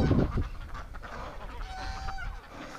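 Ducks and geese honk and quack together inside a barn on a snowy winter day, a busy overlapping chorus of calls close by with no one speaking.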